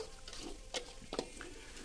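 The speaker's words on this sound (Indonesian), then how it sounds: "Kalian aduk-aduk seperti ini. Sampai minyaknya keluar ya." Ingredients for Sundanese nasi liwet fry in oil while a spatula scrapes and stirs them in a pan, giving a steady soft sizzle broken by short, louder scraping strokes.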